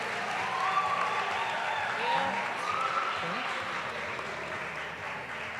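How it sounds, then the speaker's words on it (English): Audience applause at an awards ceremony, a steady wash of clapping from a sizeable crowd that runs the whole time, with a voice speaking over it. "give him a round of applause."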